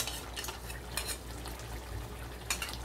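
Spoon stirring cream through chicken in a metal pot, with soft scraping and occasional clinks against the pan over a faint low simmer, fairly quiet and close, no talking.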